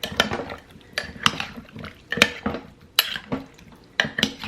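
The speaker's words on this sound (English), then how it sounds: "Okay, we're gonna stir this together." Enchilada sauce and canned drained Rotel tomatoes stirred together in a pot, with a spoon knocking and scraping in a series of distinct, uneven clunks.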